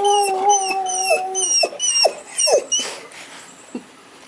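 A dog yips, whines and gives short howling barks close by, a run of rising cries followed by a few sharper yelps that trail off near the end.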